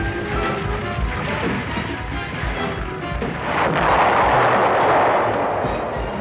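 Loud booming blasts and crashing debris from an explosion in the 1977 Incredible Hulk pilot movie, a dense continuous roar that swells even louder near the end, with no talking.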